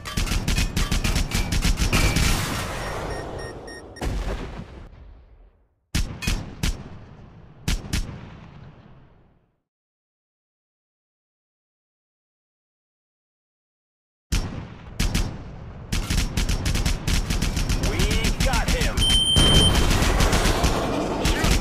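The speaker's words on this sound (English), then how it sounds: "We're under fire!" Heavy gunfire in the modern warplanes game Wings of War, dense rattling bursts of shots that break off into a few separate volleys, then a long silence before the loud firing starts again.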